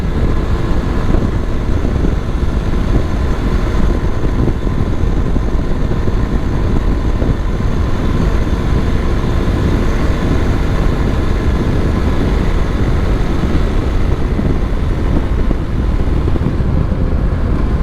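A 2022 Kawasaki KLX230SE dual sport motorcycle climbing a hill in 5th gear, its engine droning steadily and loud with heavy rumbling wind buffeting throughout, no voices.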